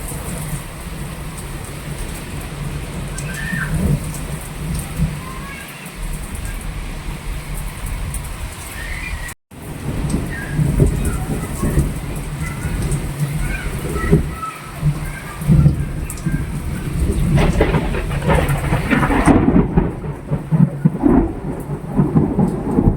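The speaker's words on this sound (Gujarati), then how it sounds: "એકદમ વરસાદ ચાલુ થયો હોય ને વીજના કડાકા ભડાકા થાય છે" Heavy rain pours down steadily while thunder rumbles and cracks repeatedly, a loud, continuous storm filling the whole stretch, during a windstorm.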